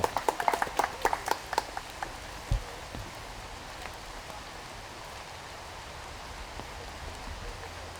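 Steady rain patters across a disc golf course during a women's championship round, a broad even hiss throughout, with a few louder taps and thuds early on.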